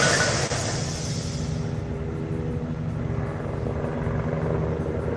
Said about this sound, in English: Helicopters coming out